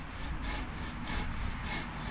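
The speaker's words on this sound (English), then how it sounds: "Saws nicely." Hand saw cutting wood with steady back-and-forth strokes, about four rhythmic rasping passes of even loudness, close up with no talking.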